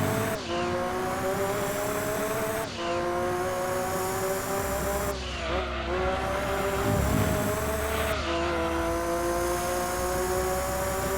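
A race car engine in the PlayStation racing game Gran Turismo 2 drones at high revs, pitch dropping sharply with each gear change and then climbing again, steady and loud with no talk.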